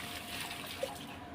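Water is poured from a bucket onto potted plants, making a steady, moderately loud splashing gush that runs unbroken, with no voices.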